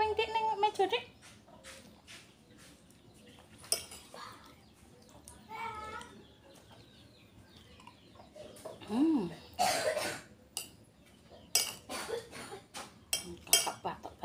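Several short coughs from a child break out amid a busy kitchen scene, with clinking dishes and people talking nearby.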